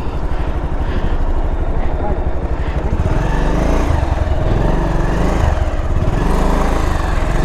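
A Pulsar NS 200 motorcycle, cold with a weak battery, is push-started and catches, its single-cylinder engine firing in rapid loud pulses that settle into a steady, rising idle after a few seconds.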